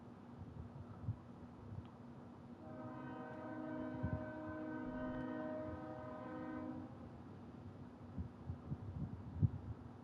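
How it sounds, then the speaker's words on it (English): A train horn sounds one long, steady blast from some distance, rising out of low rumbling rail noise and then fading while the rumble goes on. "Trains are back."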